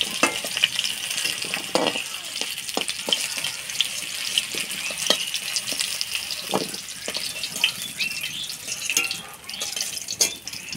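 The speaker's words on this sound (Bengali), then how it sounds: "আলুগুলো ভেজে নিলাম" Potato pieces seasoned with turmeric and salt fry in a home-kitchen pan for a Bengali fish curry, giving a steady close sizzle broken by light stirring scrapes and clicks.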